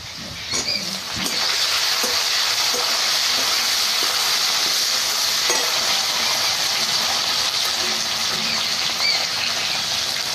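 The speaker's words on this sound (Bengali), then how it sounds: "এবার আমি দিয়ে দেবো কুচনো টমেটো।" Chopped tomatoes hitting a pan of browned onions, setting off a loud, steady, close hiss of sizzling oil that holds strongly for several seconds after a brief clatter at the start.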